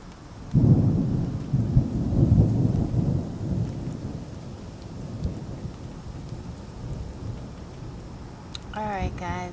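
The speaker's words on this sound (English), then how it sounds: "you probably heard enough thunder for now" Thunder rolls through a thunderstorm, a loud rumbling peal that fades slowly over falling rain, with a brief bit of talk near the end.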